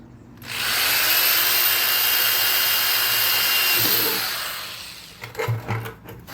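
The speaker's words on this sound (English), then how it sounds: "Got my handy dandy drill" A power drill boring holes in a plastic garden container, one long continuous whine at close range that winds down near the end, followed by a few light plastic knocks.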